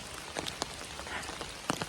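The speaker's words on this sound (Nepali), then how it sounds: "पानी पर्दैछ" Rain falls in Namchi, a steady, dense patter of drops hitting surfaces with a few sharper, closer taps.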